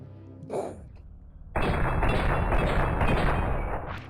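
Weapon fire in the Hybrid VR test chamber game: a single short shot, then after a pause a loud, dense burst of rapid gunfire sustained for a few seconds before it fades.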